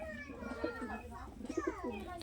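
Soft Madrasi pigeon cooing comes in low, throaty repeated calls, fairly faint, with other bird chatter and distant voices in the background.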